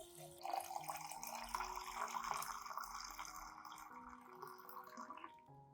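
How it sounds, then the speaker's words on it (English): Clean room-temperature water poured to dilute a banana peel and molasses plant-care solution, a steady, continuous splashing stream lasting several seconds with no talk over it. "Add 500 milliliters of clean water at room temperature to dilute the solution."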